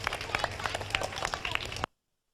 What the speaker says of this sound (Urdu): تالی بجنی چاہیے۔